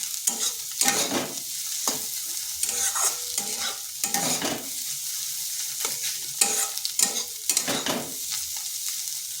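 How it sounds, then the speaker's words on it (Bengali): Egg scrambles and fries in a pan for egg paratha, with a continuous sizzle under repeated rhythmic spatula scrapes and stirs every second or so, close and fairly loud, with no talking. "ডিমটা ভালো করে একটু ভেজে নিতে হবে মানে যেরকম আমরা ডিমের ভুজা তৈরি করি সেইভাবে ভেজে নিচ্ছি"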